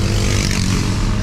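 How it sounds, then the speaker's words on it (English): A dirt bike ridden by kids around a neighborhood street gives a brief, loud, rough engine roar close by. "some kids riding a dirt bike around the neighborhood"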